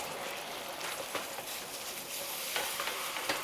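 Ketchup and apple cider vinegar barbecue sauce stirred in a pan over lowered heat, a steady soft sizzle with scraping spoon strokes and a few sharper scrapes, close and continuous with no talking.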